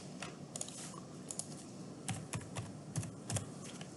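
Short, quiet bursts of computer keyboard typing, a few light key clicks spaced unevenly, then a small cluster of taps as a measurement is entered, close up with no talk.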